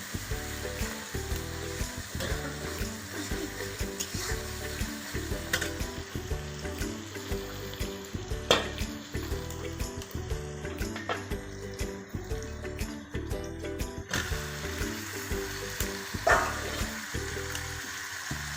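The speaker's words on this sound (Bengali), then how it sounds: "সরিষার তেলে পেঁয়াজ কুচিগুলিকে ফ্রাই করা হচ্ছে।" Chopped onions frying in hot mustard oil, a continuous crackling sizzle with small pops, steady and close for the whole stretch.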